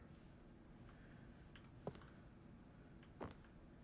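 Keyboard-like clicking in the video game The Stanley Parable: Ultra Deluxe, a few sparse soft typing clicks over a quiet, steady background, no speech.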